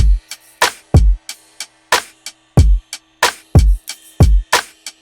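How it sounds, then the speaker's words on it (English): A punchy drum beat with deep kicks and snappy hits in a steady, looping groove, loud and close with no voices. "and altogether the drums sound like this."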